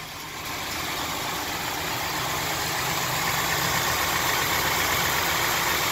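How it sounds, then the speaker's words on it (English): A 1969 Camaro Z28 V8 idling, a steady close rumble that builds slightly in the first second and then holds an even, loud drone with no talk over it. "go ahead and just let her idle"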